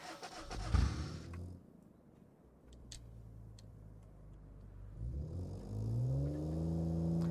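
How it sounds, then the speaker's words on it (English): A car engine in the Automation game test drive idles with steady ticking, then builds into a rising rev as the car pulls off the line, its engine tone climbing and growing louder toward the end. "First impressions are that the engine isn't as bad as I thought it. Gets off the line pretty nicely"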